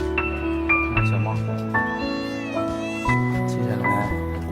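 A stray kitten mews repeatedly in short, high, close cries, one after another, while a person talks softly underneath.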